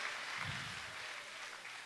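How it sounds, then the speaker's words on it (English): An audience applauds at a school skit night, a steady wash of clapping that holds at an even level for the whole stretch, with no voices over it. "Give him a round of applause."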